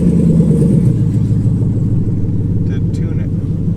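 A Texas Speed Shop truck with a Gen 5 engine swap cruising along, giving a loud, steady low engine rumble from inside the cab with little change in pitch throughout.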